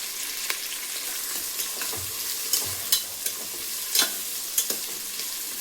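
Small onions (shallots) frying in a pan for mutton curry, a steady sizzling hiss punctuated by occasional soft knocks and scrapes of stirring, close up with no one talking.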